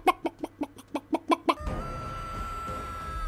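A chicken in a video game clucks in a quick run of about nine short, evenly spaced, close and clear bursts, then stops, leaving a noisy background hum with a faint steady tone.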